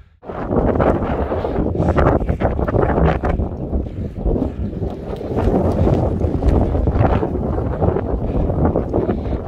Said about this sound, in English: It is windy up here on top of the mountain.